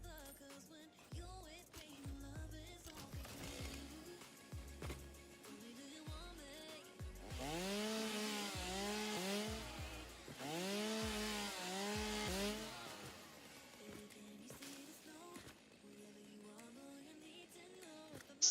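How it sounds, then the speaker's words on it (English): Chainsaw cutting in the video game Satisfactory, a loud sustained buzzing saw in two long bursts of a few seconds each, set among game clatter and rhythmic thumps. "We're gonna need to chainsaw this."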